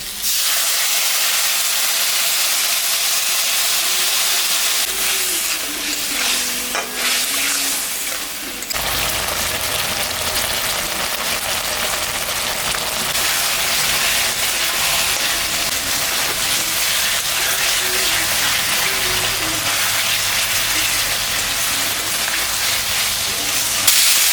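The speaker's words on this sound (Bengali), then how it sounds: "মশলাটা ভাজা হয়ে গেছে" Chilli, ginger and cumin sizzle and hiss steadily in a hot pan while being stirred, a loud continuous frying sound throughout with faint background voices.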